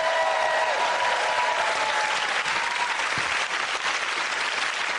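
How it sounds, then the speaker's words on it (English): Studio audience applause on a comedy panel show, a full, continuous roar of clapping from a large crowd, loud and even throughout with no talk over it. "Give that round of applause"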